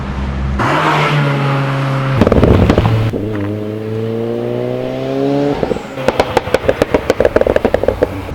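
A Ford Sierra Cosworth with a touring car spec engine revs loudly near and steadily, then fires rapid bursts of sharp anti-lag bangs and crackles, first briefly in the middle and then in a long popping run at the end.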